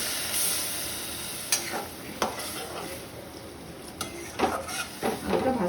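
Potatoes and banana flower frying in a pan for a prawn dish, a steady sizzle under sharp spatula scrapes and clinks against the pan at irregular intervals, close and fairly loud.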